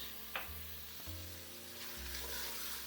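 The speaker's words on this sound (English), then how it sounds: "now you keep frying this, stirring it occasionally" Lamb pieces fry in a pan with salt, a soft steady sizzle broken by a few clinks and scrapes of stirring, quiet and close with no voices.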